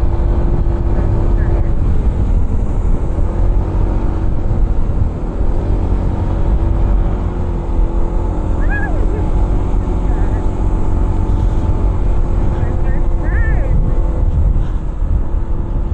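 A motorcycle engine drones steadily and loudly while climbing a steep uphill road in Aguilar, Pangasinan, with constant wind rush and road rumble throughout and no pauses.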